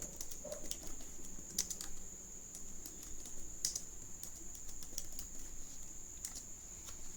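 Typing an Excel formula on a computer keyboard, a steady patter of soft, close key clicks with occasional sharper taps, quiet over a low room hiss, no talking.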